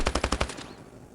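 A rapid burst of about six automatic gunshots from the mobile shooter game Standoff 2, crisp and evenly spaced, followed by a short fading tail with no talking.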